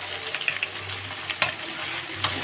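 Vegetables for chow mein fry in a pan and are stirred, giving a steady close sizzle with a few sharp scraping knocks of the spoon, no voices present.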